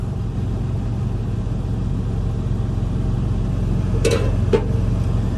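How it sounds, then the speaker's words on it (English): Steady loud droning hum of a refrigerated truck's engine running nearby, continuous and unchanging, with a couple of brief clicks near the end. "So there's a truck with the reefer behind me, being all kinds of loud."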